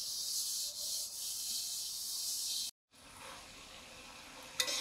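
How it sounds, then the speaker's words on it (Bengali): A cooking pot is scrubbed with ash, a close, steady gritty rubbing that cuts off briefly midway and resumes, ending with a sharper scrape. "যেন পুরো হাঁড়িটা মেজেই একটু ওই ছাই মাখিয়ে দিচ্ছি, দিলে তাড়াতাড়ি কালিটা উঠে যায়।"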